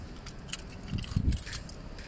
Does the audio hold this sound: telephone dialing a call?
no